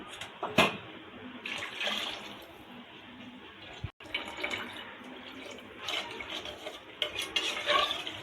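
Spoon scraping and swishing through basmati rice, water and mutton in a biryani pot, in irregular bursts of stirring with brief pauses and a sharp knock midway.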